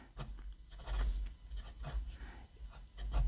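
Jinhao 80 fountain pen with a hard steel nib scratching across paper, a close, dry, pencil-like rasp in repeated short strokes with a faint low rumble underneath.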